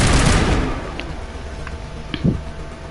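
Gunfire with exploding rounds in Mass Effect: a loud close burst at the start that fades out, followed by a few fainter scattered pops and impacts.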